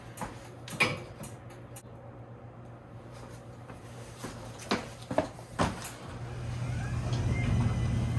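Inside a garage, a motorized garage door runs closed with a low, steady mechanical hum that swells toward the end, set among scattered clicks and knocks.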